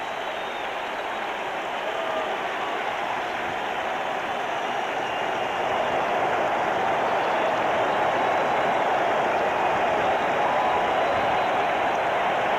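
A capacity baseball crowd at a 1985 Mets game roars after a Mets run scores, a broad wash of cheering that swells louder partway through and holds steady.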